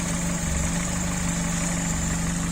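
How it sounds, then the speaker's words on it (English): An old Jeep engine idles steadily up close, a continuous low mechanical rumble with a constant hum and no variation across the short stretch. "Very sweet little engine."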